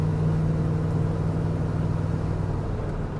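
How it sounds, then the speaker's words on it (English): A modified, non-stock engine in a 1968 Mercury Cougar pulls hard while driving, a steady low droning hum of the running engine with road noise heard from inside the car, continuous and even throughout. "The car got some nice pulls to it."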